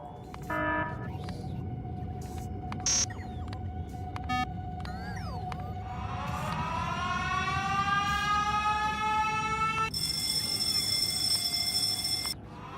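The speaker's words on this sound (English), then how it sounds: "Yeah, let's go with the siren." Alarm siren in the Factorio: Space Age video game, a long rising and falling wail that swells over a steady hum, with other electronic tones and beeps layered on top.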